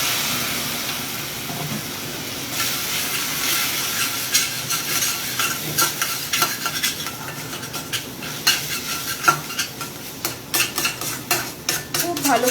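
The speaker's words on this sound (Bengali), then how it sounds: "ভালো করে কষাবেন মশলাটা" Masala spices for chana dal being stirred and fried in a pan, with steady sizzling under repeated close scraping and clinks of a spoon against the pan, growing busier and more rhythmic toward the end.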